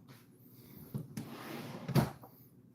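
A wooden drawer slides and bumps a couple of times, with a louder knock near the end, close by in a quiet room.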